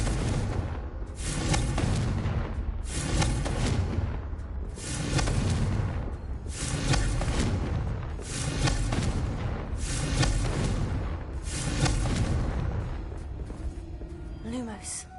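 Booming, explosive bursts from Confringo fire spells in Hogwarts Legacy played on PS5, repeating roughly every one to two seconds with heavy low rumble, under a voice calling out spells.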